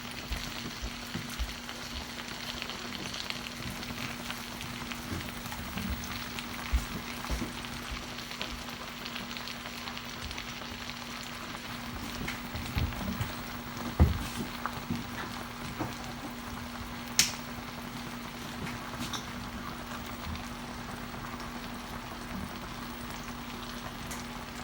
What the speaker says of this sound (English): we're going to add in our eggplant now.